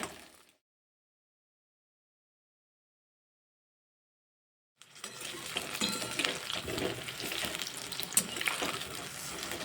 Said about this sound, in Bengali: এখন আমি বেগুনগুলোকে একটু ভেজে নেব